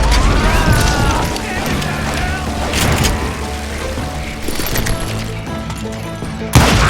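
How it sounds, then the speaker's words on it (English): Gunfights from the Call of Juarez Gunslinger video game fill the scene, with scattered shots and booming impacts over busy game sounds and a low music bed, ending in a sharp loud blast. "Sounds like Garrett hired a whole regiment of hired guns"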